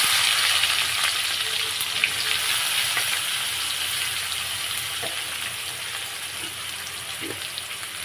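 Two chillies, whole cumin seeds and onion hitting hot oil in a pan, giving a loud, continuous hissing sizzle that holds steady and alone throughout.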